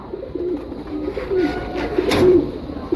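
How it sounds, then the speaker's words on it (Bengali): Soft pigeon cooing in a pigeon loft, low and rolling, close by with some handling noise and a brief rustle partway through. "একটা আকর্ষণীয় কবুতর দেখবে এখন আপনারা"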